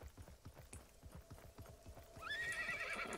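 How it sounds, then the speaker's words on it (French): Steady horse hoofbeats clip-clop at a trotting rhythm in the video game Realm Royale, then a horse whinnies loudly near the end, with no voices. "j'ai entendu un cheval, on prend la hauteur"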